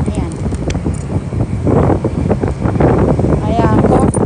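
Strong, cold wind buffets a microphone outdoors, a loud, rumbling roar that swells and gusts, with a voice speaking over it.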